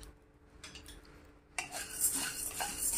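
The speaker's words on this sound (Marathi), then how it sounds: "एका प्लेटमध्ये आपल्याला हा साबुदाणा भाजून घ्यायचा आहे" Sago pearls dry-roasting in a pan for a fasting-day flour mix, stirred with a utensil: soft scraping at first, then a louder, steady rattling and scraping of the pearls against the pan through the second half.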